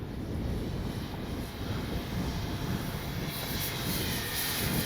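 A Flightline F4U Corsair RC model warbird airplane flies overhead under an overcast sky, its electric motor a steady, loud continuous whine and rush that holds throughout, with no talking.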